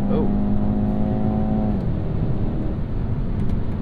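A 2023 BMW X1 in sport drive mode accelerates, its engine droning as a steady tonal whine inside the cabin that shifts and fades partway through, over loud road rumble.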